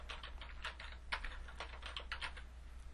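Rapid, uneven keystrokes on a computer keyboard as a file name for a saved game is typed in, a close, steady run of crisp clicks with no talking.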